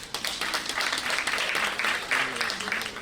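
A motivational-talk audience claps for themselves, a lively patter of many hands with a few sharper individual claps standing out.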